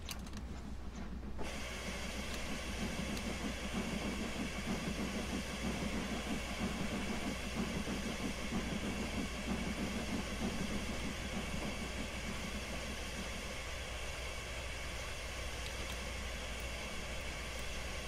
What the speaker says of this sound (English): having it slightly at a certain percentage allows the locomotive to gain speed just a little bit